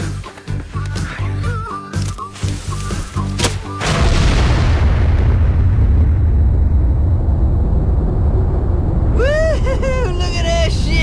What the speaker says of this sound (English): jam that in the gas bucket. We'll shoot fireballs at it.